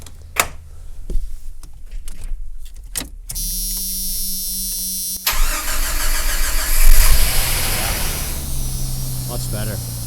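A Jeep Cherokee XJ with a fuel pressure regulator fault cranking briefly after sitting, the starter whirring before the engine catches and settles into a loud, close idle, after some handling clicks at the start.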